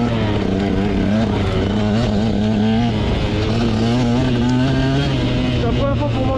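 Motorcycle riding on a snowy, slippery road in Lozère, its engine drone steady and close throughout with a slowly wavering pitch, loud and continuous, with faint voices mixed in.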